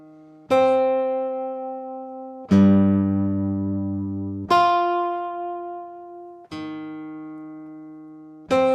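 MidiStep sequencer app on iOS sounding four sustained synth notes in octaves, each struck sharply about every two seconds and decaying slowly, clean and alone.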